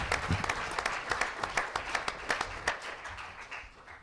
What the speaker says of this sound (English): Everybody give him a round of applause on his way